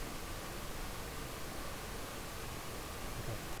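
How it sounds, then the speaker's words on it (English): Steady pink noise generated in SuperCollider hisses at a constant low level, a dense, even rush with no breaks or changes throughout. "it generated a control rate pink noise"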